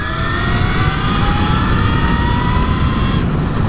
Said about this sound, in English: over the wind you can still hear this whine